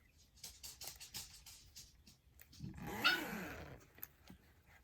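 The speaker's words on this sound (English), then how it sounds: "Sorry, that's my dogs playing around." Dogs playing around indoors, with a burst of scuffling, yips and a low growl near the middle, fairly faint and close, with quieter rustling before and after.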